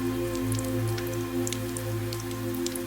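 Steady rain falling on a highway during a drive, a dense continuous wash with scattered sharper drop hits and a low rumbling hum of the car underneath, close and even throughout with no voices.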